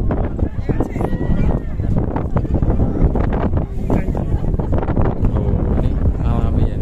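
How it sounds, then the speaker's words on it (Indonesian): Strong wind blows outdoors, a loud buffeting rush with rough gusty rumbling against the microphone, and a voice talks over it. "Oh, ini anginnya wuku wuku wuku wuku wuku."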